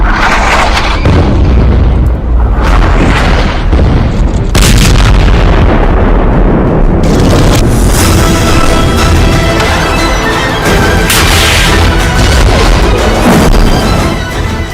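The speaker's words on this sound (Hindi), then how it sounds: "इजराइल लेबनान बॉर्डर पर दागी गई एंटी टैंक मिसाइल।" An anti-tank missile fired at the Israel-Lebanon border: very loud, heavy booming blasts and a sustained roaring rumble that fill the whole stretch.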